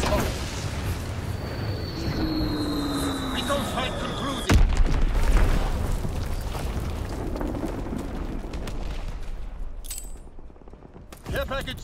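A heavy bomb explosion in Call of Duty WWII, one sudden loud blast near the middle that rises out of constant battlefield rumble and gunfire and then settles back into the din.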